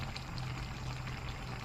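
Hot water pours steadily into a pot of chicken soup with boneless chicken breast, sweet corn and vegetables, a continuous close splashing stream with no talk.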